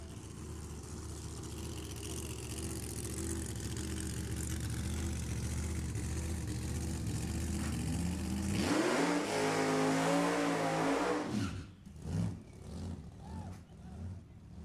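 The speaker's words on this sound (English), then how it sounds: "As I hear a blower car fire up over behind the water box." A throaty supercharged drag racing car engine roars to life partway through, rumbling loudly over steady crowd and track noise at a drag strip, then revving in uneven bursts.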